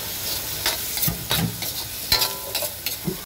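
Carrots and mushrooms stir-fry in a pan for a Filipino-style carbonara, giving a steady, loud sizzle broken by repeated scraping stir strokes, close by and with no talking.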